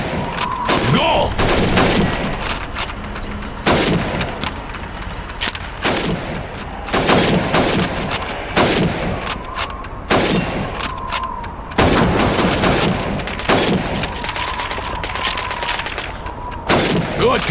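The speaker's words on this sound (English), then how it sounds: "You have 15 seconds to shoot the helmets." Rifle shots ring out on a training range in the video game Call of Duty 2 as helmet targets are fired at, with loud, sharp reports in an irregular series, some spaced out and some coming close together.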